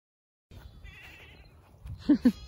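Two short goat bleats ring out near the end, close and loud, after a stretch of low shuffling and rustling, on a farm with a Nubian dairy goat.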